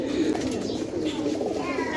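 Soft, low pigeon cooing rolls on continuously for a couple of seconds, a close warbling murmur with faint chirps over it.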